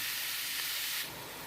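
Minced beef sizzling as it is stir-fried in a hot pan, a steady loud hiss that holds for about a second and then eases slightly, with no talking.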